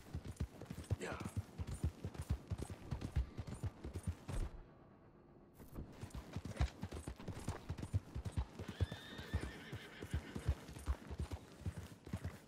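Horse hooves in the video game Red Dead Redemption 2: rapid, rhythmic clip-clop of a galloping horse, briefly pausing midway, with a whinny and bursts of distant gunfire, and someone speaking.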